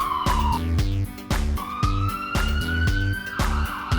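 A police car siren in a children's vehicle song wails with a rising and falling tone over a steady, bouncy musical backing, loud and continuous throughout.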